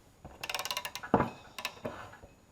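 A 1/2-inch drive ratchet with a 7/8 socket clicks in a rapid run of pawl ticks, then a sharp metallic creak and a few more clicks, close up, while tightening on a 1976 Chevy C10 front control arm.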